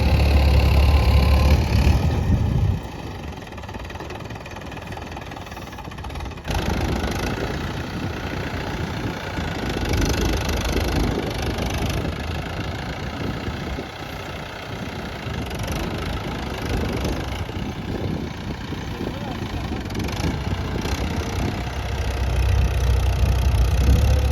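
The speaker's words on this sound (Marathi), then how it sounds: "माझा भाऊ ट्रॅक्टरवर काम करतोय" A tractor engine runs steadily while furrows are cut in a field for potato planting. The mid-range idle rumble is loud and close throughout, with no talk.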